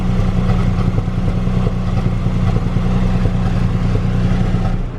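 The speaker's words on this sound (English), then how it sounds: "either it's the exhaust with the condensation, but it's almost like popping a little bit" A used car idles with a steady low, throbbing exhaust note and faint irregular pops or sputters mixed in, with condensation in the exhaust. It is close and fairly loud throughout, with no voices.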